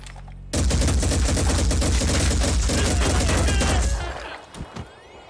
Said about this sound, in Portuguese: Tiro em todo mundo aqui.